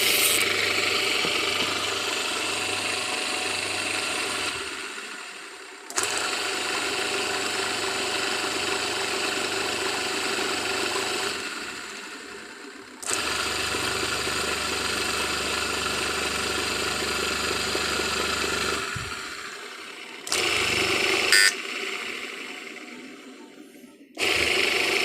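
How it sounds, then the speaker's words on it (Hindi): Washing machine running after its timer is switched on, a steady close motor hum and churning rumble that drops out briefly twice and resumes, with clicks near the end and no talking. "अब हम आपको वॉशिंग मशीन चलाकर चेक करवाते हैं।"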